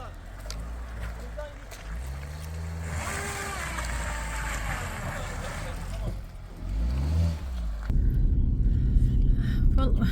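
A car pulls away from in front of a house onto the road on a foggy day, its engine rising gradually and growing louder and closer toward the end.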